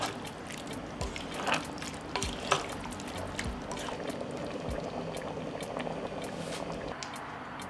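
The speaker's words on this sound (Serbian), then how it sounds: "Sve ću to promešati i ostaviti još 10 minuta da se kuva na tihoj vatri." A pot of beans with vinegar simmering on low heat, soft continuous bubbling with scattered pops and light clicks close by.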